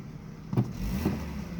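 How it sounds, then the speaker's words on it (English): Petrol Opel Astra engine converted to LPG idles with a steady low rumble, a couple of slight uneven thumps breaking the rhythm near the middle, heard up close. "You can feel a little misfire even from now."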